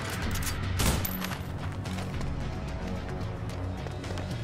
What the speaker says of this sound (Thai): ทำไมกูยิงปืนบ่อยจังเลย